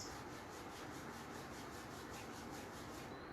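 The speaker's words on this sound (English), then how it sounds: "Release the hands and rub the palms." Palms rubbed briskly together during a breath-awareness meditation session, a steady close, dry swishing friction that continues evenly for a few seconds with no talking.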